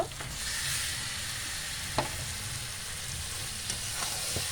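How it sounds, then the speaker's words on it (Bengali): Meat frying with spices in a pan for a cauliflower chicken dish, a steady close sizzle broken by a few sharp scrapes and taps from stirring. "মাংসের সঙ্গে মশলাগুলো খুব ভালোভাবে কষিয়ে নেব।"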